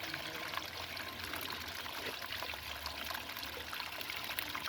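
Water draining through a lateral hole drilled in a blocked apartment drainpipe, a faint continuous trickling and pouring stream heard steadily throughout with no talking.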